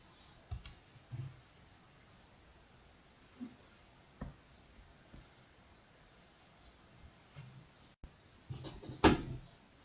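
A computer mouse clicks while a team kit emblem is being edited: sparse, quiet single clicks at irregular intervals, then a slightly louder cluster near the end, with no talking.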